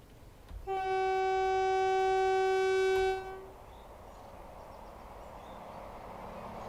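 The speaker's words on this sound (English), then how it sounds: "we'll see sort of how far away we can hear the train from" A train in Train Sim World 3 on the Midland Mainline sounds a long steady horn blast of about two and a half seconds, then a low rumble lingers as it passes at a distance.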